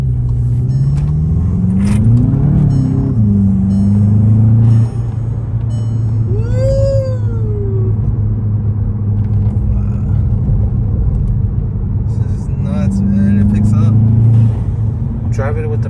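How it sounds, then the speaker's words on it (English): A tuned 2021 Volkswagen Jetta GLI pulls hard in sport mode, its engine and intake note rising and falling through paddle-shifted gears under steady road rumble, with a voice talking over it partway through. "That engine intake sounds really good"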